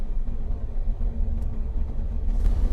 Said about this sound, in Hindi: जैसे कि ये गाड़ी अपन ने बढ़ा ली।